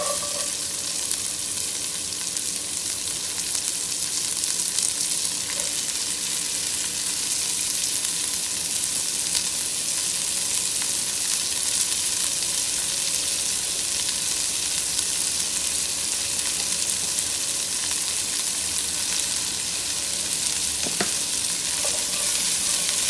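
Freshly cut vegetables added to a hot pan with bacon, frying with a steady, close sizzle and crackle over a faint background hum, occasional stirring clinks, no talk.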